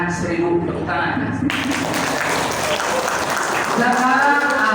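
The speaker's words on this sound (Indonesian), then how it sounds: "Nilainya 1000 tepuk tangan." Applause from an audience during an Islamic religious lesson where children recite Quran verses: a dense burst of clapping starts abruptly after a short spoken phrase and carries on for several seconds, mixed with voices.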